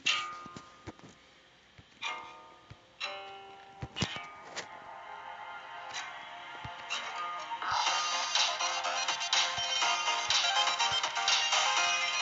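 Catchy electronic game music from Geometry Dash SubZero plays alone, starting sparse with tick-like synth hits and then swelling into a dense, loud, bright beat after a few seconds.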